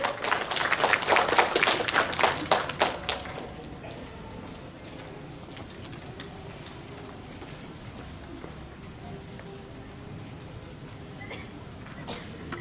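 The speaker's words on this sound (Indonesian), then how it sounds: "Kita berikan aplaus sekali lagi Bapak Ibu" Audience applause rings out at an Indonesian book launch, a dense burst of clapping for about three seconds that quickly dies away into quiet room tone with a few scattered claps.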